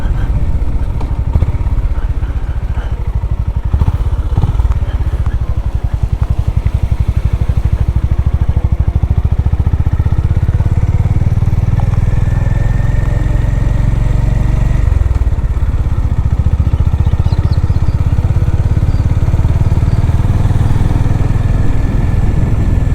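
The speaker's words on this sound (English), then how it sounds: "you're going to hear the extremely excellent sound of this exhaust even more" A Honda GB350 motorcycle engine rumbles steadily with a deep exhaust note, rising in a sustained rev partway through, while the bike keeps running close by.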